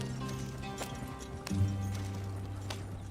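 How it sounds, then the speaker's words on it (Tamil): Hooves of a slow horse-drawn wagon in Red Dead Redemption 2, heard as sparse, soft clops over a steady low rumble and hum of game ambience. "அதனால கொஞ்சம் குதிரை வண்டி ஸ்லோவா போயிட்டு இருக்கு."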